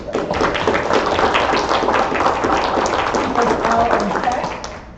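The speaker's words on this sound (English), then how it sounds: "We want to give Ruby and her team, Carla, a round of applause" An audience at a council meeting breaks into sustained clapping, a dense close wash of applause that holds steady for several seconds, with voices mixed in, before it begins to taper off.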